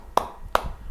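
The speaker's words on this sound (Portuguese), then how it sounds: "palmas." Two brief, sharp hand claps about half a second apart, fairly close and crisp in a quiet room, with no voices.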